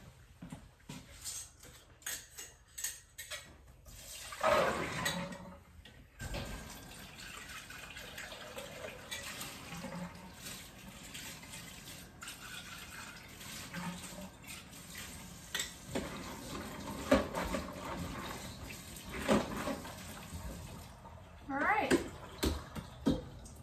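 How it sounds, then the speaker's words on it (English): Running water splashes in a kitchen sink as canning jars are rinsed out and drained, a steady wash of water with brief louder bursts, under a person talking through most of it. "I'm going to go ahead and get it rinsed out, and, drained and rinsed out, and I'm going to rinse the jars out."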